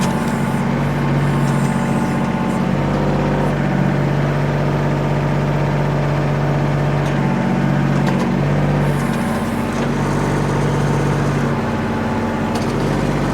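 A 2013 Kubota L3800 compact tractor with loader and backhoe idles its 38 HP diesel engine, a steady low rumble with a constant hum that runs unbroken and fairly close throughout, with no voices.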